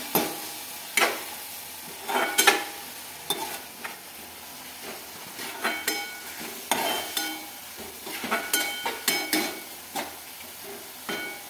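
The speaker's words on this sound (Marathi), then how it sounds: "आपण त्याला थोडासा हलवूया, हलवून बघू" Eggplant curry masala frying in oil, stirred with a utensil that scrapes and taps the pan in irregular bursts over a steady close sizzle.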